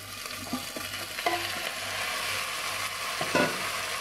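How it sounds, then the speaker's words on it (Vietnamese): Oxtail being stir-fried in a pan with fried shallots, garlic and ginger, a constant sizzle punctuated by several scraping stirs and clinks, close and without talk. "Sau khi phi hành tỏi với gừng để xả thơm rồi, mình sẽ cho đuôi bò mình xào nhé."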